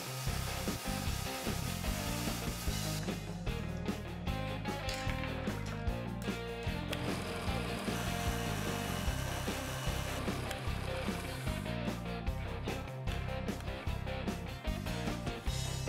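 A lathe-driven drum thickness sander sands wood while a powerful vacuum extracts the sawdust, producing a loud, continuous roaring hiss that runs unbroken from start to finish.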